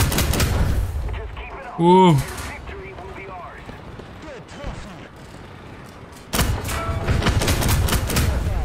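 Enemy gunfire in War Thunder, low-tier vehicle combat: bursts of shots aimed at the player's vehicle from several enemies, with an abrupt loud burst near the middle and dense firing toward the end, while someone talks and exclaims over it.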